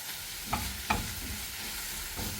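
Ginger garlic paste hitting hot oil in a pan, a soft steady sizzle with a couple of brief spoon-stirring scrapes, close and quiet.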